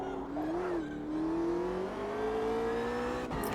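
A race car engine in the Automobilista 2 sim racing game during a multiplayer race drones loudly and steadily, its pitch climbing gradually as it accelerates, then breaks off briefly near the end as if for a gear change.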